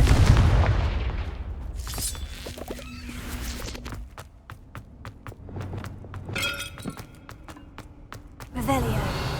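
A Confringo blasting spell going off in the Hogwarts Legacy video game: a heavy boom at the start that fades out, followed by scattered sharp cracks and impacts, with more bursts near the end.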